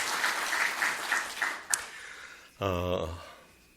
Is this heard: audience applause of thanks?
yes